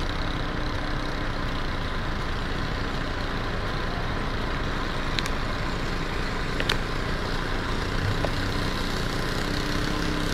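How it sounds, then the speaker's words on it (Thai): Heavy trucks run steadily along a flooded road past a damaged construction zone outside a shopping mall in Bang Khae, Bangkok, producing a continuous broadband engine and water rumble with a few faint higher clicks and no speech. "ก็เป็นรถใหญ่เท่านั้นนะครับ"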